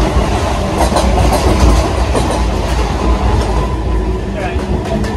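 A local train pulls into Sealdah station in Kolkata with a loud, steady rumble and clattering wheels heard from inside the carriage, the noise continuous and close throughout.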